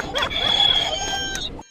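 A rooster-crow buzzer toy, set off inside a bag on a regional train, sounds one loud, brief electronic crow with a warbling start and a held, slightly tinny tone that cuts off abruptly.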